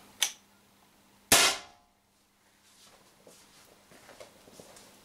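An Umarex HDR50 air gun fires a single ball on 1100 psi HPA: a small click, then one sharp, loud, close report that fades quickly into quiet room noise with faint handling sounds.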